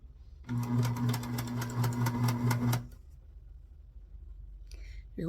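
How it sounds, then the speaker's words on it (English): Sewing machine zigzag stitching elastic onto small doll clothes, a rapid close mechanical whir with steady clicking needle strokes for about two seconds, then it stops and a voice begins briefly at the end. "you're going to zigzag stitch that on"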